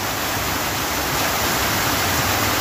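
A steady, dense rush of splashing water, loud and continuous with no pauses, from a large fountain spraying nearby at the Burj Khalifa in Dubai.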